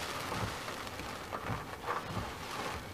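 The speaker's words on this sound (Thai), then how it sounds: "ลมก็มีตลอดนะคะแล้วก็ฝนนี่ก็คือพัดแบบเฉียงๆตลอดเลยค่ะ" Steady wind and slanting rain from approaching Hurricane Sally wash through as a constant hiss and roar outdoors, with occasional gusts swelling and no voices.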